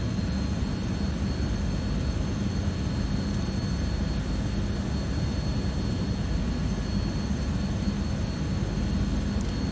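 Engine number one of a C160 Transall in a flight simulator game spools up as a steady, dense turbine roar with a thin high whine, continuous and even throughout, with no speech.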